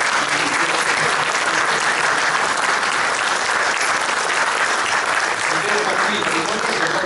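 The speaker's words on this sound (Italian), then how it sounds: "Nicola Colasanti e il dottor Ildebrando Cinosi, loro a quale dedicherei subito un applauso" A crowd at a town council meeting in Poggio Mirteto gives steady, full applause, a continuous loud wash of many hands clapping throughout.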